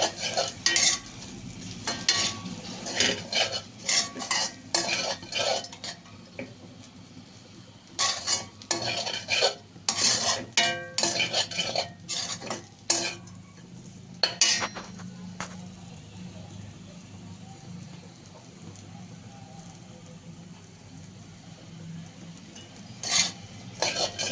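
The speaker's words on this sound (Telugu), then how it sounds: "కొంచెం వేసుకొని కలుపుకుంటే బాగా కలుపుతుంది" A metal spoon stirs and mixes rice into chicken for chicken fried rice in a pan. Bursts of scraping and clinking come and go over a faint sizzle, with quieter pauses between.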